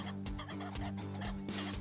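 A rooster pheasant calls outdoors during a hunt in open country, a series of faint, distant cackling bursts repeating at a fairly even rhythm.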